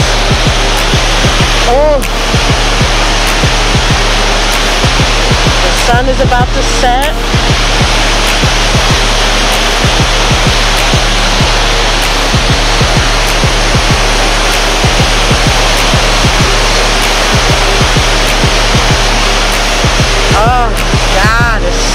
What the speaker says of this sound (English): I hope y'all can hear how soothing this sounds.